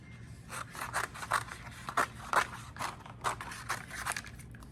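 Scissors cutting through thick cereal box cardboard give a close, rhythmic series of crisp snipping crunches, about a dozen cuts in quick succession.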